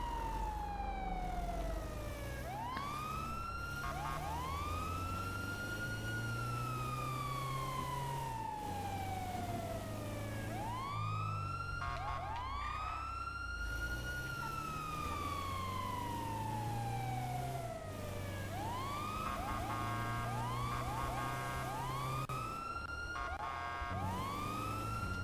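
Emergency vehicle sirens in a video game roleplay, wailing and yelping tones sweeping up and down repeatedly, several overlapping, loud and continuous with no talking.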